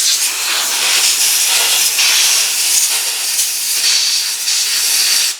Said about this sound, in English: I'm gonna get an airline in there and clear out all that gunk